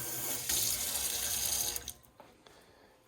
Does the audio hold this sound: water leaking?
yes